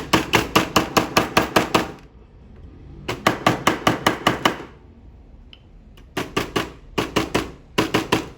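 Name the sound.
horn mallet hammering silver ring ends on wood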